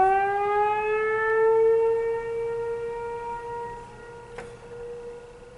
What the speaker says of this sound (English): why's the siren going off?